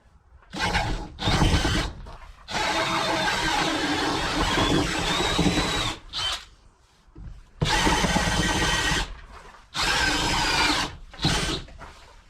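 A power drill fitted with a 1-inch bit bores into wood in several long bursts and a few short ones, separated by brief pauses, loud and close.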